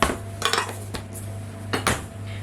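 Almond pear cake batter being stirred in a bowl, with a few sharp clinks and scrapes of a utensil against the bowl, close up and otherwise quiet.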